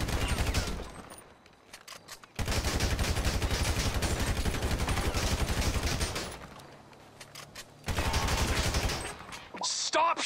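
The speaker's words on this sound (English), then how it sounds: "Stop shooting up my home!" Bursts of rapid video game gunfire in GTA 5, loud and dense, in two long volleys separated by a short lull, then a third burst, with game voices mixed in.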